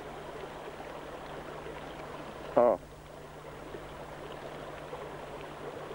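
Streams flowing where three small rivers join, a steady broad rushing of water heard at moderate distance, with a short spoken exclamation breaking in midway.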